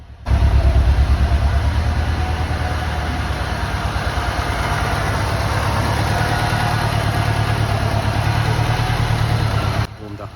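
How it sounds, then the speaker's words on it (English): A Lancia Delta HF Integrale engine, restarted after years sitting in a barn, idles steadily with an even mid-to-low throbbing drone. It is close and continuous and cuts off near the end. "Warmed up a little bit, and as you can hear, it's running a lot better."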